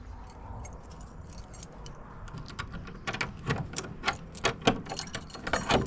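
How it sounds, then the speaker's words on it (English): A bunch of keys jangles close by on a village farm day, first faintly and then in bright, irregular clinks over steady outdoor background noise, with no talking. "I was asking for these keys to open here."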